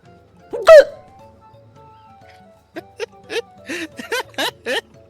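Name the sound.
character hiccuping in Final Fantasy XIV video game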